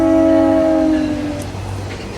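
A southbound train rolls past a rural railroad crossing near a curve and pond, its horn sounding in loud sustained tones that fade after about a second as rumbling rail noise continues.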